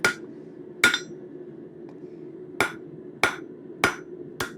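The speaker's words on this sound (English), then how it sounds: "it's hammering the material back on top of itself" Hammer blows upsetting metal stock, driving the material back on itself to thicken and shorten it; six sharp ringing strikes at an irregular, unhurried pace over a steady low hum.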